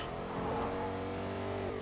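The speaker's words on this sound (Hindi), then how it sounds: "रहने दे गाड़ी आ रही है" Car approaching in the Fortnite video game, a loud, steady engine drone with a slight rise in pitch as it draws near, filling the whole stretch without any talk.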